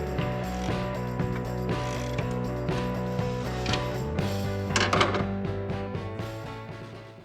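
A ratchet, an Icon tool from Harbor Freight, loosens the alternator bracket on a 3rd-gen Toyota 4Runner, giving a steady, rapid run of close mechanical clicks that lasts throughout with a brief heavier stretch near the end.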